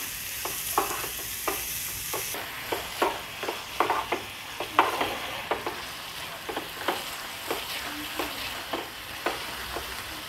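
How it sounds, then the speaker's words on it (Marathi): Chopped onion sautés in oil for a squid masala, a soft steady sizzle broken by regular sharp scrapes and taps of a spoon stirring against the pan, roughly one every half second, with no talking. "कांदा तेलामध्ये ना थोडासा परतवून घ्यायचा आपल्याला 2 ते 3 मिनिटं"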